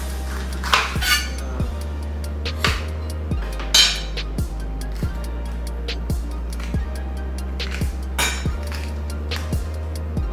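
Kitchen knife chopping through green onion on a cutting board, a steady series of crisp knocks on the board with faint clinks, close and alone without talk.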